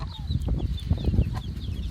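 A young rooster and hens cluck in a crowded coop, a close, busy tangle of short calls over a shuffling background.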